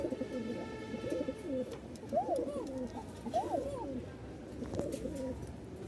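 A Rajshahi Giribaz pigeon on a farm gives repeated rising-and-falling coos, several close calls in a row against a low, steady background murmur.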